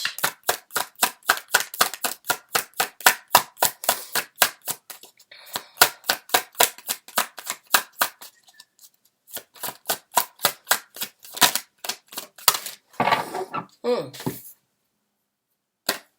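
Tarot cards are shuffled in rapid, crisp riffling slaps that form a steady rhythmic run of close clicks, pausing briefly before further bursts of shuffling.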